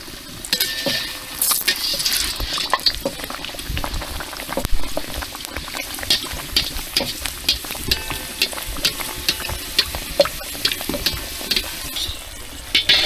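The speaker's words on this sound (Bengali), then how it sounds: "ডালপুরিগুলো আমি ভেজে নিচ্ছি।" Dal puris deep-frying in hot oil, a steady loud bubbling sizzle with frequent crackling pops and spatters throughout, no voices.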